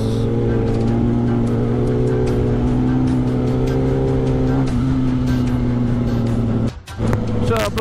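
Kawasaki Ninja ZX-10RR superbike engine held at a steady high rev while warming up the tires on a group ride, loud and continuous with a slight pitch shift midway and a short dip near the end.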